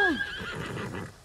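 A horse in Ghost of Tsushima lets out a sharp, descending whinny up close, followed by a few soft hoof clops as the call fades away.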